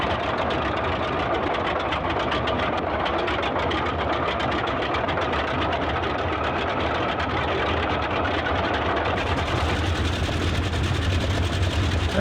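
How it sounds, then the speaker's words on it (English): Loud, continuous radial piston engines of a Boeing 247D airliner in Microsoft Flight Simulator 2020 drone and rumble steadily with a rough, throbbing texture, filling the whole stretch without pause. "Nice radial engine sounds."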